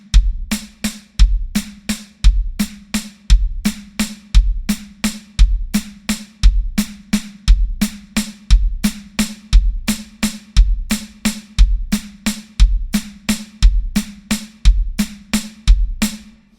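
A drum kit plays a slow linear triplet pattern, with bass drum on the last note of each group of three. Hits fall in an even, steady rhythm and ring alone, close and loud.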